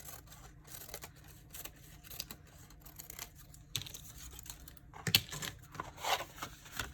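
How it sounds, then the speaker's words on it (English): A sheet of Tyvek being cut down to size for a no-sew notebook cover, with soft crisp snips and rustling of the sheet, close up and fairly quiet, a sharper crackle near the end, and no talking. "So I have a piece of Tyvek. Just cut that down a little bit."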